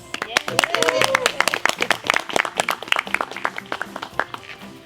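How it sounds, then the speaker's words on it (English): Applause at a graduation ceremony for the class of 2020: a smaller group claps in loose, uneven bursts, close and fairly loud, with a brief tonal sound near the start. "let's give a big round of applause to ISLA graduate, class of 2020, Nicole Martinez."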